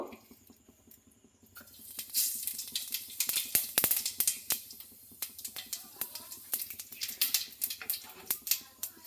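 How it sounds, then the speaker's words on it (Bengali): Whole cumin seeds crackle and spit in hot oil in a pan with busy, irregular popping that sharpens after a quiet start and keeps going steadily. "গোটা জিরাটা ভালো করে ভেজে নেব"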